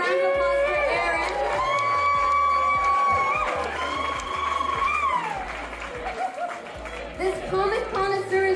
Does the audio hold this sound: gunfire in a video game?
no